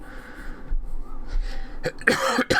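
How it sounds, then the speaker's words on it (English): A cough bursts out near the end after a stretch of quiet room tone, close and fairly loud, with a second rough burst following. "Excuse me for coughing."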